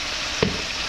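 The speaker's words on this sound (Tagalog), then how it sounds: "Mabel, nagpiprito na tayo ng... Wings! Chicken wings!" Chicken wings fry in hot oil in a catering kitchen in Mabalacat, Pampanga, giving a steady, close hiss of sizzling throughout with one small pop partway in.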